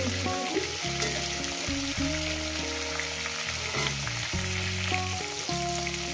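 Fish sizzling in hot oil in a pan, a steady dense crackle and hiss running throughout at moderate level, with a loud low-pitched tonal hum layered underneath.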